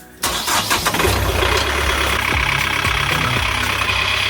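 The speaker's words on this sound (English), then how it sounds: "get to our backup panel, power up, start the engine" A boat's engine cranks with a sharp burst, catches, and settles into a loud, steady idle with a low throbbing rumble and a few clunks, heard close and without talk.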